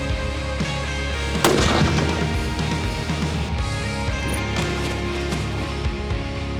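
Rifle shots fired while zeroing an optical scope: one loud, sharp crack rings out early, followed by fainter, echoing reports against a steady outdoor background, with no talk.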